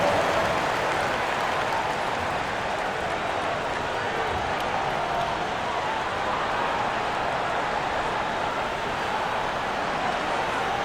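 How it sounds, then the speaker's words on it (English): Sustained crowd applause and cheering fill a basketball arena during a timeout late in a Heat versus Timberwolves game, a dense, steady roar that continues unbroken throughout. "Give them a round of applause."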